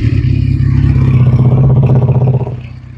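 A Regal Raptor Spyder V3 motorcycle with an EFI engine, 2023 model, revs close by in a steady, loud, throbbing rumble that holds for about two and a half seconds before the revs drop and ease off.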